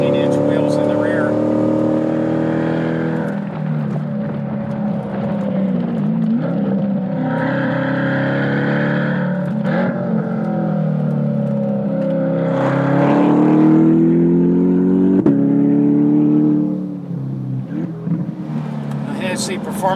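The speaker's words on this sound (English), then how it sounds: "Hennessey Performance Engineering also fabricated a different exhaust system for the car. You can hear it has a much more tony sound to it." C8 Corvette fitted with a Hennessey Performance Engineering exhaust and 18- and 19-inch wheels, driven on a race track; a loud, steady engine drone with rising and falling revs runs throughout, with someone talking over it.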